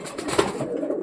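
Pigeons coo in a loft of young racing birds, soft low repeated calls close by with a steady murmur of other birds, no talking.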